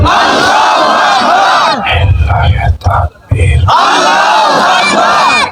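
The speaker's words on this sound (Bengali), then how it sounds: "সবাই মিলে একই তালি একই সুরে দাও না স্লোগান, লিল্লাহ তাকবীর" Large crowd at an Islamic religious gathering roaring a takbir slogan in unison, loud massed shouting that breaks off briefly for a single amplified voice, then surges back.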